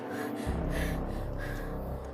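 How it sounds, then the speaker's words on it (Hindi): A young woman pants hard in an outdoor night scene by a campfire, sitting on a cot; quick, ragged breaths come close and loud over a steady background bed for about two seconds. "एक युवती उनकी खाट पर बैठी बुरी तरह हाँफ रही"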